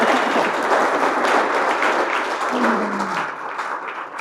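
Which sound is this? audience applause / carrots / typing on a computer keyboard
audience applause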